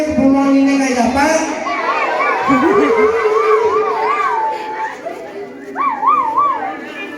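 A wavering, warbling siren sounds for an elementary school disaster drill, most likely imitated by a voice. It rises and falls in loud sweeps, with children's noise around it.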